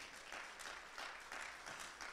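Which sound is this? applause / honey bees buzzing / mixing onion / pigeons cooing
applause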